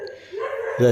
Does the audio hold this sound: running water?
no